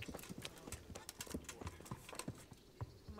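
Horse hooves clip-clop in a steady, uneven rhythm in a medieval video game, fairly close and distinct, with faint background ambience and no talking.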